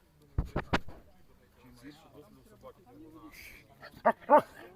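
A National Guard service dog lets out a quick run of three loud barks close by, then quieter yips and whimpers, with a final pair of sharp barks near the end while people talk in the background.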